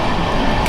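A passenger train, the New Jalpaiguri to Tiruchirapalli Amrit Bharat Express, rolling across the Farakka Barrage, heard from inside as a steady, loud rumbling roar without a break.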